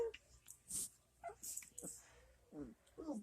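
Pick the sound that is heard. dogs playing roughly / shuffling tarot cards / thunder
dogs playing roughly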